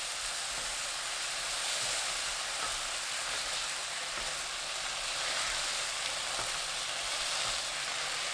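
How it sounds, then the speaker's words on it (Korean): Eggplant searing in a pan over high heat, giving a constant, even hiss of frying oil that stays fairly soft and steady with no voices. "가지가 노릇하게 익을 때까지 센 불로 구우면 되는데 저는 4분 30초 익혔습니다."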